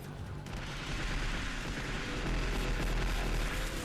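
Gunfire from guns in the Onechanbara zombie action game, a dense, continuous rattle of rapid shots and blasts, loud and constant without pauses.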